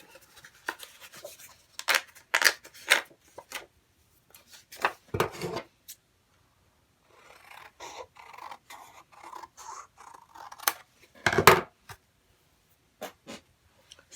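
A paper trimmer slides and cuts through layers of paper in scattered short scrapes and clicks, with quiet rubbing and handling between cuts, close and soft.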